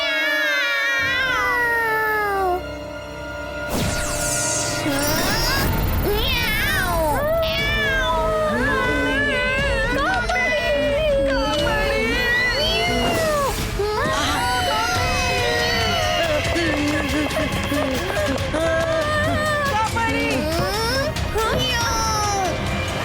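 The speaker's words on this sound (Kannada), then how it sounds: "ನನ್ನ ಬೆಕ್ಕು ನನ್ ಮುಂದೆ ಮ್ಯಾವ್" A cat meows and yowls again and again, with rising and falling cries that come close together. A busy background with voices runs under them.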